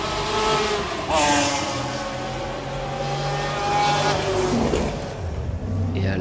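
A McLaren race car engine roars at the 1995 Le Mans 24-hour race, loud and sustained with shifting pitch as it accelerates, alongside faint crowd or track ambience.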